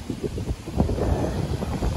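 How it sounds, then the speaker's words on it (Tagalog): Gusty wind at Tagbirayan Beach Resort buffets the microphone with a steady low rumble, rising and falling in strength throughout; no voices are heard. "Lakas ng hangin."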